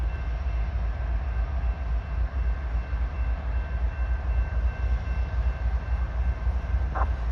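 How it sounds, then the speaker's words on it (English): A northbound freight train led by two GE locomotives, hauling a decent-sized consist, rumbles steadily and loudly up close, with a brief higher whine near the end. "northbound with 2 GEs up front and a decent-sized train"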